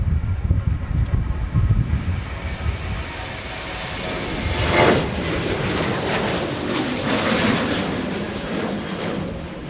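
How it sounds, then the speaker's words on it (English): A Southwest Boeing 737-700 takes off at Minneapolis–St. Paul Airport, its jet engines building into a loud sustained roar that swells midway and then holds steady, with wind buffeting the microphone. "Blasting off for Denver, Colorado, Southwest 1107 with a 737-700."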